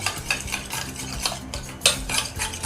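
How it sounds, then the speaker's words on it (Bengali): About five spoonfuls of sour yogurt being beaten with a spoon in a bowl make quick, close scraping and tapping strokes in an uneven rhythm, with one sharper clink near the end and no talking. "বাটির মধ্যে এখানে আমি 5 চামচের মতো টক দই নিয়েছি, সেটাকে ভালো করে চামচের সাহায্যে ফেটিয়ে নিতে হবে"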